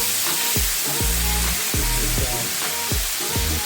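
Korean galbi short ribs sizzle in a hot pan, a steady close frying hiss broken by recurring low thumps and clatter.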